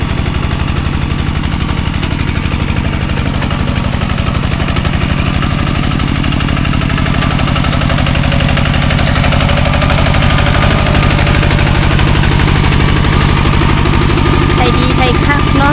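A Thai-made farm tractor engine idles loudly and steadily nearby with a continuous chugging rumble, while someone talks over it throughout.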